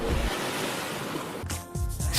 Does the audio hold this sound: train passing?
no